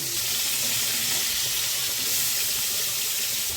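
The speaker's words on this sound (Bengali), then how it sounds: "ক্যাঁকড়ার একটা সাইড ভাজা হয়ে গেছে, এবার উল্টে দিচ্ছি অন্য সাইডটা ভেজে নেওয়ার জন্য" Crab pieces frying in hot oil in a kadai, a loud, dense, continuous sizzle and hiss that holds steady throughout with no voices over it.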